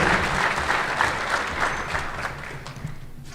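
An awards-ceremony audience applauds a California Highway Patrol officer with a dense, continuous wash of clapping that holds steady and then thins slightly at the close.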